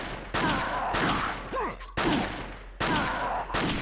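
Gunfire in Resident Evil 4 sounds as about five sharp shots spaced roughly a second apart, each a loud crack with a short decaying tail.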